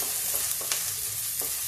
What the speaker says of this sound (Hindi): अब मैं इसको थोड़ा फ्राई करती हूँ